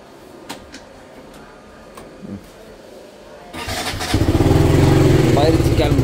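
A scooter engine starts up: quiet background with faint clicks and a brief mechanical sound, then a close engine catches and settles into a loud, steady buzzing idle that lasts to the end.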